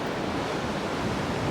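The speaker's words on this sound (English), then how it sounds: "The surge from the ocean isn't too bad in here" Steady broadband wash of ocean surge at a quiet, protected anchorage where a sailboat lies alone at anchor, continuous and moderate with a windy hiss throughout and no talk.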